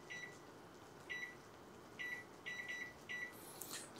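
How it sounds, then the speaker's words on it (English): A kitchen timer being set while peanut curry with tofu cooks gives a series of short, high electronic beeps, single and paired at uneven intervals, over a faint background hiss. "I'm gonna set a timer for a minute just to let this go on its own."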